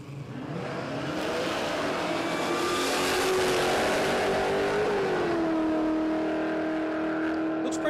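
Drag racing cars, an HT sedan and a wagon, scream down a dragstrip together, their engines rising in pitch through the gears as they pull away, loud and sustained before easing off at the end.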